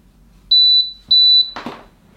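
A Thermal Cinch thermal binding machine gives two long, loud, steady electronic beeps in a row, then a clunk of handling as something is moved.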